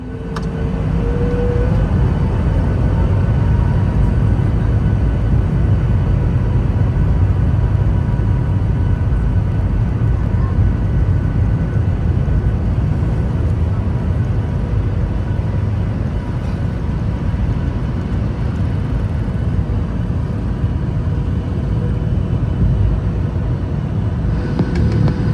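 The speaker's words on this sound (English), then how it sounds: "Pretty takeoff and another quick and uneventful flight." Steady, loud roar of Boeing 737 MAX 8-200 engines heard from inside the cabin of a Ryanair flight during takeoff, a dense continuous rumble that holds unchanged for the whole stretch with no talk.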